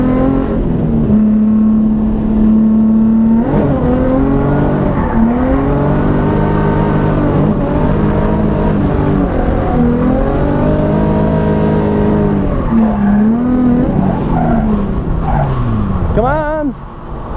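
A car drifts at the Winter Jam event, its engine revving and wavering in pitch through a long handbrake slide, loud and close throughout under a voice talking over it.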